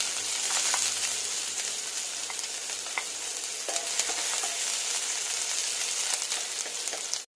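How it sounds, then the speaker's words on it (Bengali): Onion frying in oil in a wok (kadai) for a prawn and taro curry, a steady close sizzle running throughout with light stirring scrapes and no voice. "পেঁয়াজটা হালকা করে ভেজে নেব।"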